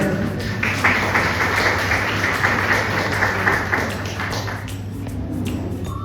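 An audience at a motivational talk breaks into dense, sustained applause for the Golesar family and Prajakta, a steady patter of many hands that thins out near the end.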